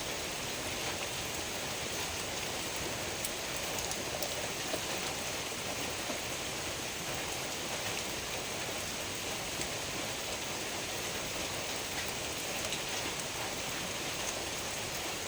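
Village rain falls steadily, a soft even hiss of drops on surfaces, continuous and moderately distant with no voices for about fifteen seconds.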